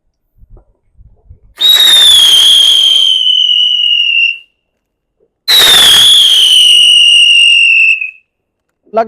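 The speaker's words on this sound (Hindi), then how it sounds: "अब फटाफट बाहर चलते हैं, पटाखे जलाते हैं।" Two loud fireworks whistle upward in succession during Karwa Chauth celebrations, each a shrill rising-then-falling screech with crackling bursts, separated by a brief pause, with faint rustling beforehand.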